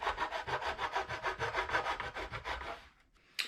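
A fret end file rasps along the binding channel of a brass resonator guitar body in about twenty quick, even back-and-forth strokes, close and dry, before a short pause and one final scrape.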